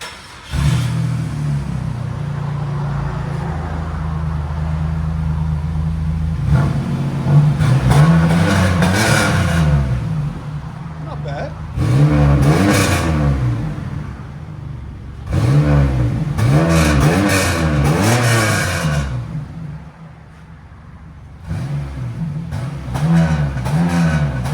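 A 2002 Chevy Camaro with a 3.8L V6 and Cherry Bomb Pro muffler idles with a deep steady exhaust drone, then revs up in several rising and falling bursts before settling back to idle.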